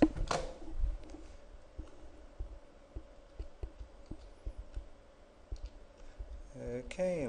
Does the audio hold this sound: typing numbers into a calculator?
yes